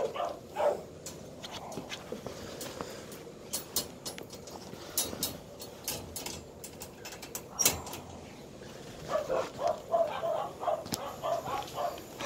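A pet dog barks in a backyard, with scattered faint yips and barks early on and a louder run of barking near the end, all over steady outdoor background noise.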